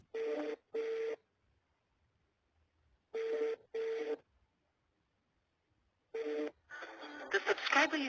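A cell phone call rings unanswered, three close pairs of ring tones separated by silent gaps, followed by the start of a recorded message.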